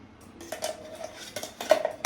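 Store-bought biscuits set into a bowl while layering a mango dessert, giving a few light clinks and taps of crockery that build to sharper knocks near the end, close and quiet with no talk.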